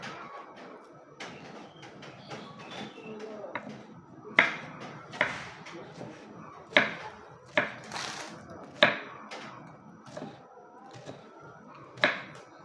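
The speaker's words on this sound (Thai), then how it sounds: "เราก็หั่น หั่นเห็ดก่อน" Knife strokes knock sharply against a cutting board at an uneven pace, each chop distinct, close up in a quiet kitchen, finely chopping enoki mushrooms.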